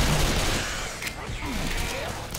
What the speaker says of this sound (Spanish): Vamos a ver si también los disparos.